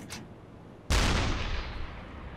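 A submarine deck gun fires a high-explosive shell in the Uboat game, sounding as a single loud, sudden boom that rolls into a long, slowly fading rumble, with no speech over it.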